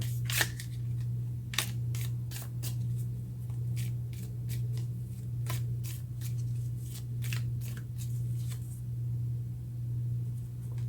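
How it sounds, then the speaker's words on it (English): Tarot cards being shuffled and drawn, giving a string of crisp, close riffling flicks and snaps at an irregular pace over a steady low hum. "so let's get a card for that"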